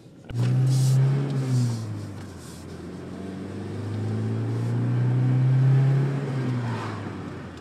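A manual car engine revs up, drops as the clutch engages for a gear change, then climbs again in a second long rising pull, steady and moderately loud from inside the car with no talking.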